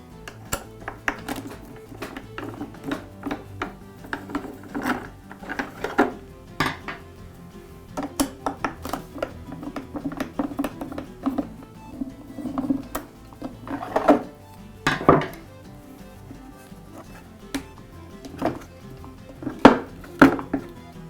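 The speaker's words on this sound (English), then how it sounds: "Now I'll remove the two screws that secure the top handle to the pump." Removing screws from the handle of an air compressor pump: scattered metallic clinks, taps and light knocks of tools on metal parts, irregular and close, with louder clanks in the later part and no talking.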